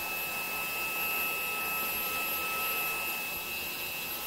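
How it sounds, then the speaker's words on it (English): A small Xiaomi portable vacuum cleaner runs steadily on laptop vents with a high-pitched whine and airy hiss, continuous and close, with no talking. "just vacuum the vents as well"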